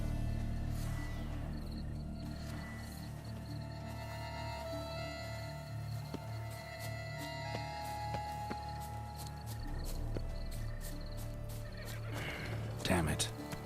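A unicorn in The Witcher 3: Wild Hunt neighs and whinnies over a game soundscape of sustained tones, with occasional hoof clip-clops and a voice talking; a sharp burst of noise rises near the end.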